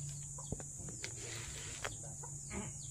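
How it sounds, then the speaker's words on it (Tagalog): A hen clucks on a Philippine farm, soft scattered clucks at a distance over steady background noise and hum. "Tatay, ito yung isang inahin."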